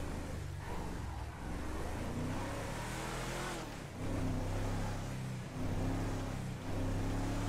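A car engine drives in Grand Theft Auto V roleplay, a mechanic's car with poor handling, heard loud and close as a steady droning hum whose pitch climbs and falls with the revs, with a few brief dips like gear changes and no talking.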